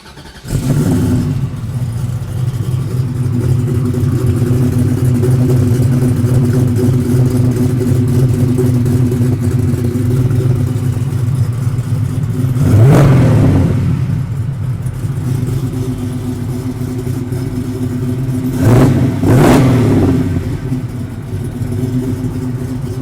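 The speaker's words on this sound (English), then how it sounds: "start it up for us one more time so we can hear what it sounds like" A 900-horsepower 1965 Chevrolet Chevelle idles with a loud, steady, lumpy rumble close by, then two sharp revs blip up and fall back, one near the middle and a pair near the end.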